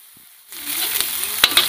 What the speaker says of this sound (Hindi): उसके बाद जो हमने दरदरा मसाला पीसा था इसको हम इसमें छोड़ देंगे क्योंकि इसमें लहसुन है तो अच्छे से भुन